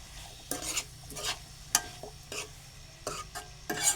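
Onion sautéed in a pan for a fenugreek-leaf dish, stirred in short scraping strokes about once a second, each stroke a soft rasp over a quiet background, with no one speaking.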